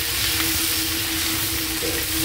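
Garlic and onion fry in a pot for Filipino chicken soup, tinola, giving a loud, dense, continuous sizzle with a faint steady hum beneath it.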